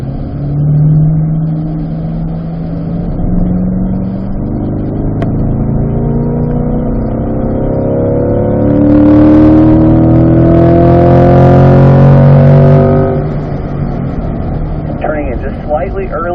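A car accelerates out of a corner at Spring Mountain racetrack, its engine note climbing steadily and swelling loud for several seconds before easing off, heard close and alone.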